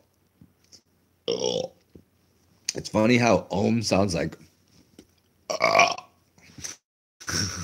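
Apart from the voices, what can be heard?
burp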